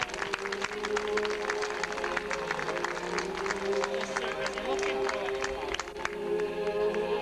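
Crowd applauding at a church fete, dense scattered clapping from many hands, fairly faint and distant, with a steady tonal hum underneath.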